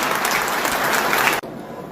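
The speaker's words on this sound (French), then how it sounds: "je vous demande quelque part de les applaudir aussi" An audience at the opening ceremony of a patronal festival applauds steadily, a dense wash of clapping that cuts off abruptly, leaving quieter room murmur.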